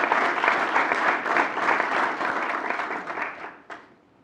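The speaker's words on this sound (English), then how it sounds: "Please join me in a round of applause for the spouses, children, parents, grandparents, and other family members who have supported the Bremerton sailors these last 45 years." A crowd of family members and guests applauds at a US Navy submarine inactivation ceremony for USS Bremerton, steady dense clapping that holds loud for several seconds before thinning out and fading with a few last claps.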